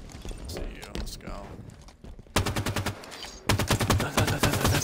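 Human voice mimicking an assault rifle firing in rapid rhythmic bursts, two loud sustained stretches of evenly spaced staccato pulses, following earlier excited talk.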